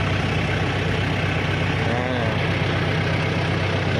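A tractor ploughing a paddy field runs continuously, its engine a loud, even, close-up drone with no break.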